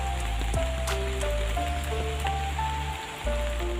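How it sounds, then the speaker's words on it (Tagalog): Rain patters steadily on surfaces at a rural countryside home during a low-pressure spell, a continuous close hiss with scattered drips over a low background hum. "Maulan dito sa amin guys. Dahil may low pressure."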